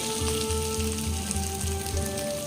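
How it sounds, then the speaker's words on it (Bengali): Chicken frying in hot oil left over from frying shrimp, for a home-style mixed chow. It gives a steady, dense sizzle with a low rhythmic hum beneath it, close and continuous throughout. "এবার ওই তেলেই দিয়ে দেবো চিকেন"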